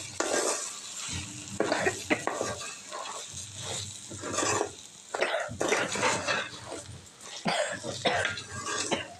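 Chilli powder and biryani masala are stirred into mutton keema in a pan, giving repeated scraping and clinking spoon strokes against metal with soft sizzling underneath, plus a few cough-like bursts close by.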